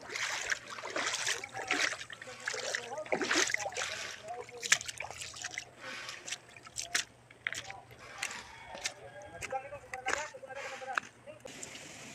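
Water trickles and gurgles softly from under rocks on a mountain, a faint steady flow, with people talking over it at times.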